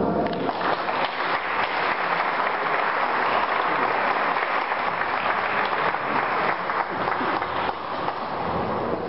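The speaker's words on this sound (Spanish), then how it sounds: "aplauso" An audience at a mariachi school tribute claps steadily, a dense even wash of applause heard throughout at moderate distance, with no speech over it.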